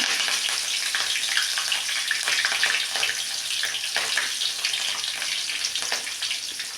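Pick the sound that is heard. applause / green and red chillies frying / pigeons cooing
green and red chillies frying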